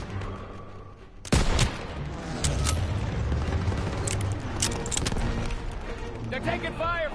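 Dense, continuous gunfire in a D-Day street battle, with a sharp close burst followed by sustained rattling shots and booms. Shouting voices cut through the fire.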